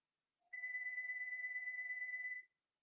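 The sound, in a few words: telephone ringtone ringing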